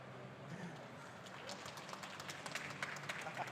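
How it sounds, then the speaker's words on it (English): Light, polite applause from a convention audience welcoming a comics publisher's president, a thin patter of claps that grows slightly denser toward the end. "So, golf clap."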